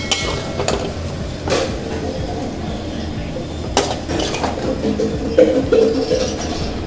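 Fried maasi dried fish being moved onto a plate in a kitchen: scattered light metallic clinks and scrapes of a utensil against cookware and plate, irregular and moderately close.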